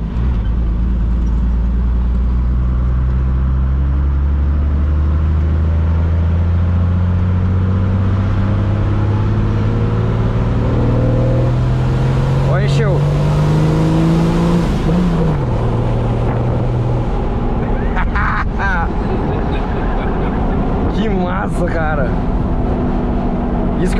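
A Chevrolet Silverado's six-cylinder MWM diesel engine, tuned to 400 hp, revs and climbs through third and fourth gear, pitch rising in long sweeps, heard from inside the cab with people talking over it.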